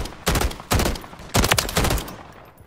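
DG-56 rifle fire in Modern Warfare 3 comes in four sharp, loud bursts of rapid shots, each a quick cluster separated by short gaps, with the last tailing off.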